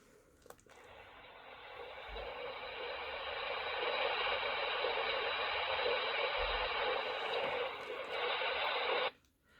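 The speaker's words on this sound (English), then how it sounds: "It's also helpful if we use a white noise machine." Steady broadband hiss rising gradually in loudness, constant and even like a noise machine, with a couple of soft thumps, then stopping abruptly.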